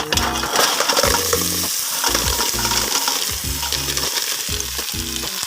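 Clams (halaan) sautéed in a pan sizzle loudly while their shells clatter and rattle against the metal in rhythmic bursts as they are stirred, with no voices present.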